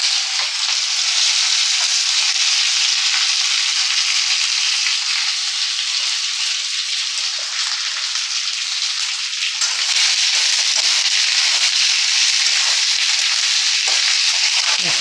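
Ivy gourd sizzles and fries hard in hot oil with bay leaf and nigella seeds, a loud, steady, close hiss that runs on without a break and swells slightly partway through.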